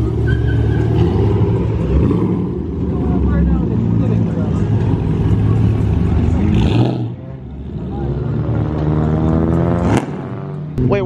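A Dodge Hellcat at a busy car meet roars and revs loudly and close, a dense engine rumble with rising pulls and a brief dip, while people talk over it.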